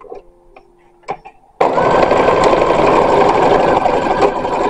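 A sewing machine starts up after a few faint clicks and taps, then runs loud and continuous, stitching the sleeves of a 1916-style embroidered linen dress at close range.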